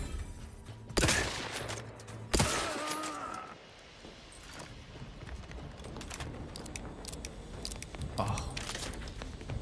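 Gunfire in the video game Outer Worlds 2: two loud close bursts of shots early on, then quieter scattered game sounds and distant shots, with a voice talking briefly in between.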